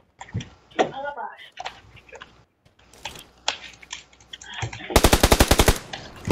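Gunfire in PUBG Lite: scattered single shots, then a rapid automatic burst of sharp, closely spaced cracks near the end, mixed with game sounds and someone talking over parts of it.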